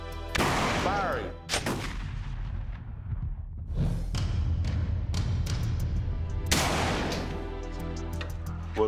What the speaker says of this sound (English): Our initial test firing didn't work. It was still a bit loud, and it had a strange resonance.